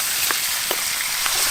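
Butter sizzling steadily in a pan while a calzone cooks at a rainy backcountry campsite, a continuous close frying hiss with a few faint soft knocks.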